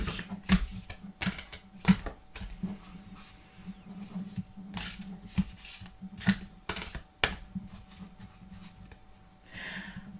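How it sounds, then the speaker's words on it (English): Playing cards riffle and snap in repeated sharp bursts, close up, with pauses between shuffles and a faint steady hum underneath. "I'm shuffling the cards and I'm feeling nothing"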